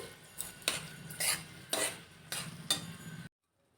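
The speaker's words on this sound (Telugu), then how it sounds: "ఇందులో కొంచెం సాల్ట్ తీసుకుని ఒకసారి ఇది మొత్తం కలిపేసి" Chicken and liver fry being stirred with salt in a pan, a utensil scraping and clinking against the metal in about five distinct strokes, close and moderately loud, with a soft sizzle beneath and no talking.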